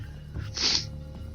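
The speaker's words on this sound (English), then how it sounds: "I just sneezed 5 times in rapid succession." A single short sneeze bursts out close to the microphone, a sharp hissing puff over a low steady background hum from the Subnautica game.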